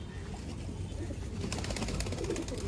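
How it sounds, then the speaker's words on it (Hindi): Pigeons coo softly amid fluttering and splashing, with a burst of wing flapping and water movement near the end. "तो नहा रहे हैं सारे कबूतर"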